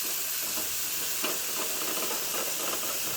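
Tomatoes and salt sizzle and steam in a hot pan while cooking down for dal tadka, a steady close hiss running evenly throughout with no voices.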